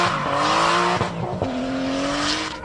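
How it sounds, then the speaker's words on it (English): A strong-sounding Nissan Silvia drift car at a drift nationals round, its engine revving hard and loud with rising and falling pitch and brief breaks during gear changes, close by. "The Hyperdrive team brought 3 cars from Perth for this event, including this strong-sounding Silvia."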